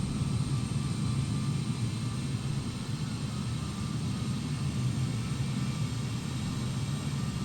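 Jet engines of an Antonov An-225 Mriya cargo plane spooling up in Microsoft Flight Simulator, a steady low droning rumble with a faint whine above it, continuous and unbroken.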